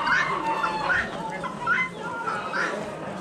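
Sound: guinea fowl calling at an Amish animal auction

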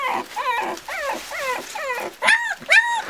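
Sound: dogs barking

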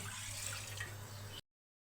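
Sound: water being poured into a pressure cooker

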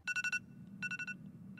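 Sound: default phone ringtone in video game The Upside Down 2

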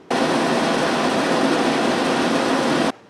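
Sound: air conditioner running

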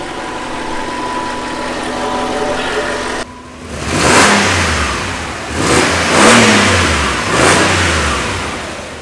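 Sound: Audi A8 4.2 petrol engine revving and accelerating

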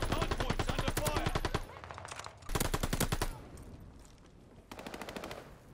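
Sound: machine gun gunfire in a video game

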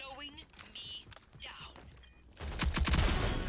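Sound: DMR rifle gunfire in a video game

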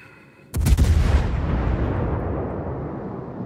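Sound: naval gunfire in World of Warships video game

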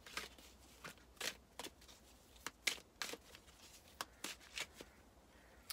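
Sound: shuffling Notes from the Universe oracle cards

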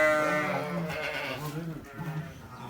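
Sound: lamb bleating on a farm

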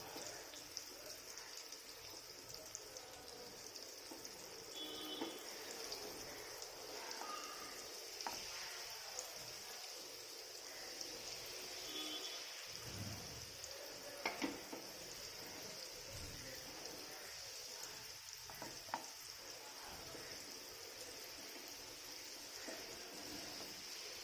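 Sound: prawns pan-roasting on low flame

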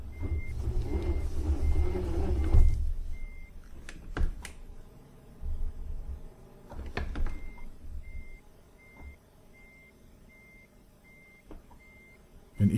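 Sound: truck reversing a trailer with reversing beeps, Euro Truck Simulator 2 video game

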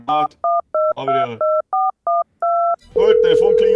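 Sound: telephone ringing in Farming Simulator 22 video game

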